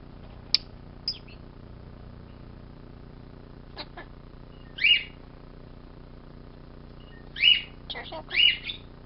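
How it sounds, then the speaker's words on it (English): Pet starlings chirping indoors, scattered short chirps and a few sharper calls spaced apart, fairly faint against a quiet room with occasional speech. "You're a silly bird, Heckle."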